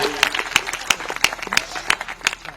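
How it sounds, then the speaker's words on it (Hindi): Claps from an audience at a public speech or comedy event, a series of sharp, fairly loud claps in an uneven rhythm with a voice talking over them. "जोरदार तालियां होनी चाहिए"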